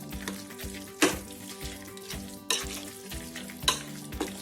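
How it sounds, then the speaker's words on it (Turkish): Food sizzles in a pan while a utensil stirs and scrapes through the mixture, with a few louder scrapes standing out against the steady frying. "Şimdi bütün harcımızı güzel bir şekilde birbirine kaynaştıralım"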